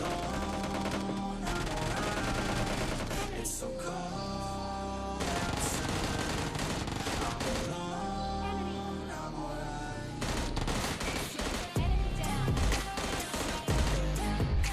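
In PUBG Mobile Lite solo-versus-squad play, bursts of automatic gunfire and single shots sound over the game's background audio, coming in clustered volleys with short gaps, loudest near the end.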